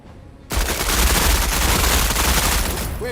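Sudden dense gunfire in the video game Menace erupts after a brief quiet, a loud rapid volley of overlapping shots that keeps rattling for several seconds.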